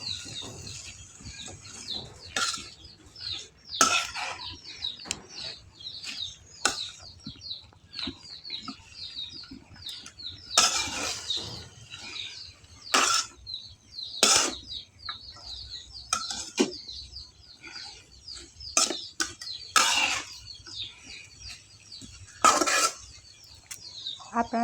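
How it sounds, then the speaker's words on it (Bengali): A spatula stirring Malabar spinach greens with dried shrimp and potato in a pan, giving repeated scraping and clinking strokes at an uneven rhythm, close and moderately loud, with faint bird chirps in the background. "তারপর এগুলোকে ভালোভাবে নাড়াচাড়া করে মিশিয়ে নিচ্ছি।"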